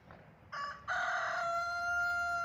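A single rooster crows close by, a loud, stretched cock-a-doodle-doo that rises and holds its tone, heard alone against a quiet background.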